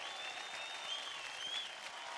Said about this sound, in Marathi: जोरदार टाळ्या होऊन जाऊ द्या अक्षता आणि पूजासाठी.